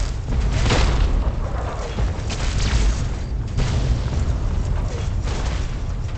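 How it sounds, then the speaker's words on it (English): A grenade explosion in Fallout 3, a loud sustained rumbling boom with debris-like noise rolling on for several seconds, close and dominant. "Oh! Grenade."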